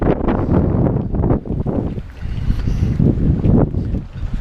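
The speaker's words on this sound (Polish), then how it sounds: "Tylko po prostu wiatr robi swoje." Strong gusts of wind on Vendres beach in France buffet the microphone in heavy, uneven rushes, loud and close, with no other clear sounds.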